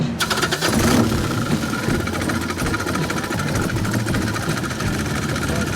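A chopped motorcycle engine with a dry clutch idles loudly and steadily up close, with a brief rev at the start settling into a rough, even rumble.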